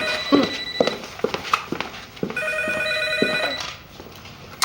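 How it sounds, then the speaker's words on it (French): A telephone bell rings in a home, repeated trilling rings in bursts, loud and close, with a brief pause and then a longer continuous ring. "j'imagine que tu te dérangeras pas pour aller répondre au téléphone"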